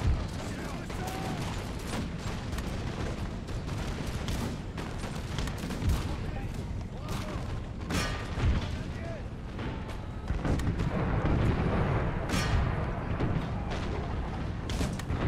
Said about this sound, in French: les canons qui me dégomment